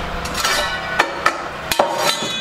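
A ceramic disc pulverizer grinds graphite flakes between two ceramic discs, one spinning fast, giving a steady, dense rasping roar broken by several sharp knocking impacts throughout.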